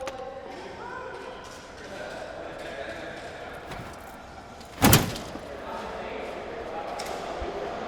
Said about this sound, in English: Door is fully open.